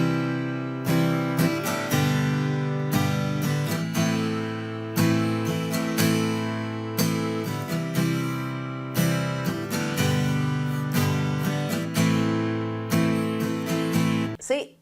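Acoustic guitar strumming a three-chord pattern with one down strum dropped, a steady and fairly fast rhythm of bright strums repeating in bars, close and alone with no talking.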